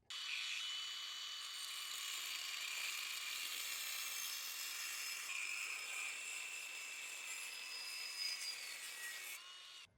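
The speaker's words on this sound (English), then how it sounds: "we're gonna take our cutoff wheel, we're gonna cut that tab off" A cutoff wheel grinds through a metal tab on a Sprinter van builder foundation kit, a continuous high-pitched abrasive whine, close and steady, stopping at the end.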